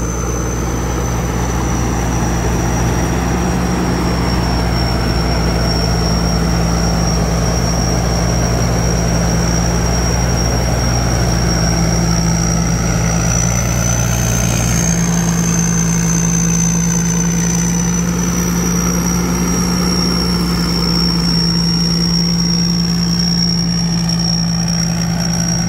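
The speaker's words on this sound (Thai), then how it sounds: "รอบเครื่องยนต์ไม่มีตกเลยครับ" A truck engine idles steadily and loudly, with a constant low rumble and a thin high whine, unchanging throughout.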